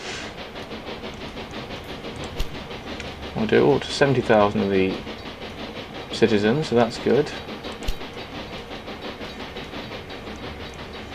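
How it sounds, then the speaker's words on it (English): A goods train runs in the railway simulation game Railway Empire 2, with a steady rolling rumble and hiss under a voice talking, while two louder tonal blasts sound partway through. "I know it's only a goods train"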